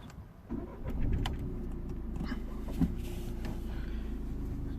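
A Golf MK7 1.6 TDI diesel hatchback with a glow plug circuit fault has its ignition switched back on, giving a steady low engine-like hum with a faint click and a light rattle partway through, with no talking.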